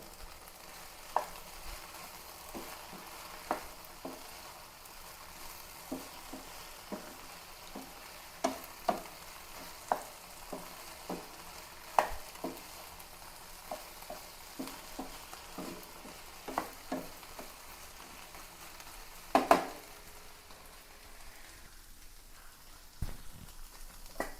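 Curry leaves dropped into hot oil in a pan, frying with a steady low sizzle and scattered sharp pops and crackles throughout, close by, with no talking.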